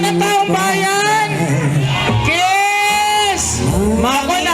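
A festive crowd at a celebration shouts and whoops loudly and without pause, voices overlapping in a dense, excited roar.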